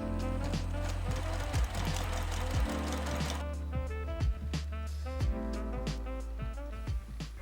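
A sewing machine stitches piping tape onto the edge of a fabric face mask, a fast steady mechanical whirring with rhythmic needle thumps that slows in the second half.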